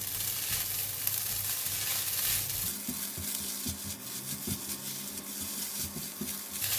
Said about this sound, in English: Now we are going to stir in the salted fish and the chili and the garlic.